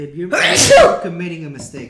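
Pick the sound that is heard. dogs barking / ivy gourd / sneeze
sneeze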